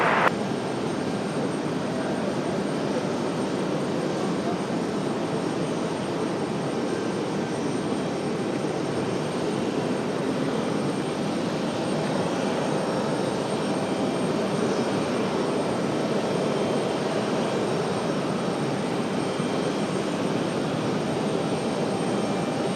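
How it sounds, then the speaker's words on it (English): A grey Republic Airways jet airliner with a white tail takes off at Raleigh-Durham airport, its engines giving a loud, sustained roar that stays strong and steady for a long stretch, with no speech. "runway heading for takeoff, bridge here 9941. All right, are all white. Well, gray with a white tail. Republic Airways on the move."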